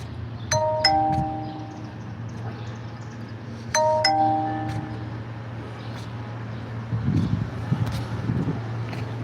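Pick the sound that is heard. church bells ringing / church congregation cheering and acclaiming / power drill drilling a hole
church bells ringing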